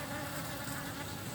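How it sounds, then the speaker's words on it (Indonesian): Wild Asian honey bees (Apis cerana) buzzing in a dense, steady swarm hum, close and fairly quiet, with no voices over it. "lihat tawon ini"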